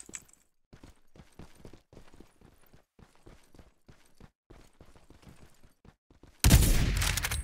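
Weapon fire in the battle royale game Farlight 84 erupts as a loud, dense burst near the end, after a stretch of quick, rhythmic clicking game sounds.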